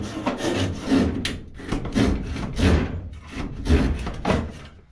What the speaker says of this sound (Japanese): ノコギリでカットしていきます